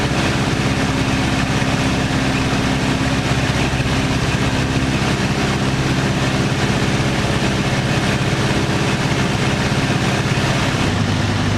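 A Piper J3 light aircraft with an 85 HP engine drones steadily in flight, a loud, unbroken rumbling hum that holds even throughout.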